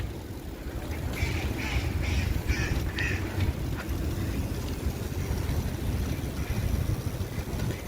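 Ducks quack in a short series of repeated calls in cold early spring in the Netherlands, heard at a distance over a steady background rumble.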